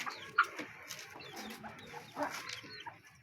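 Rooster and hens on a backyard Aseel chicken farm, soft scattered clucks and low calls close by, with no crowing and a light background murmur throughout.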